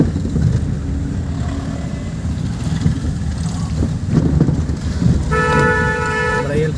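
A car horn sounds near the end of the clip as a steady multi-tone blare, heard from inside a moving car over wind and road rumble during a driving lesson.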